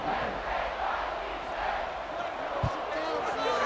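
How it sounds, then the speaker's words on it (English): A football stadium crowd during a college football video game dynasty matchup between UNM and NIU, a steady broad roar buzzing after a score, with one brief thump partway through. "this crowd is buzzing after that last score"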